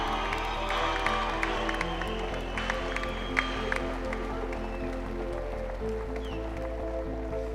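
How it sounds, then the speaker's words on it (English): Audience at a heroes ceremony gives a moderate round of applause, a steady patter of clapping heard at some distance, fairly quiet, under a sustained hum from the room. "So a round of applause for these two."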